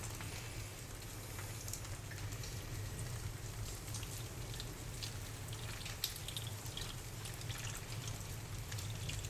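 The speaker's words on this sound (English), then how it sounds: "we're going to try and pour off the solution without getting any gold in there" Acid peroxide solution poured off gold foils, a steady faint splashing and trickling liquid stream with no talk.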